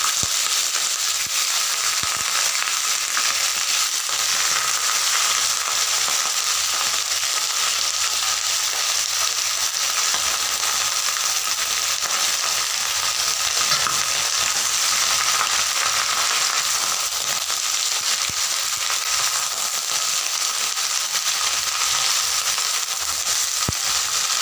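Spinach fries in hot oil with black cumin seeds in a pan, making a loud, dense, continuous sizzle that holds steady throughout with no speech.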